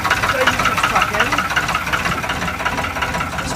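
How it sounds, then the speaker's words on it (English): A narrowboat's diesel engine runs with a loud, rough, knocking idle, held at steady revs throughout. "the engine's going"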